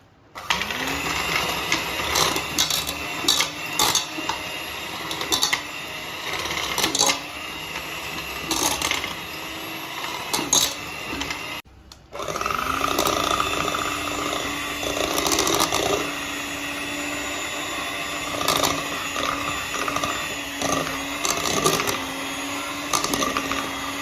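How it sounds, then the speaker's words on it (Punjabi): An electric hand mixer whips cream for homemade chocolate ice cream: a loud, continuous motor whine that cuts out briefly midway, then resumes steadily. "ਹੁਣ ਇਹਨੂੰ ਆਪਾਂ ਮਸ਼ੀਨ ਦੇ ਨਾਲ ਫੈਂਟਾਂਗੇ ਚੰਗੀ ਤਰ੍ਹਾਂ"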